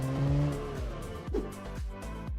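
Alfa Romeo Giulia on an Italy map in BeamNG Drive, engine revving up and down through repeated gear shifts, with rising harmonic sweeps and brief tire noise, loud and close throughout.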